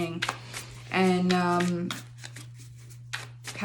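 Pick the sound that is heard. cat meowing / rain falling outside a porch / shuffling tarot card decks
shuffling tarot card decks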